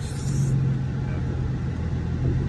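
Twin-turbo V6 Ford Mustang engine fitted with a boost controller, a loud, steady low rumble at close range with a hint of voice near the start.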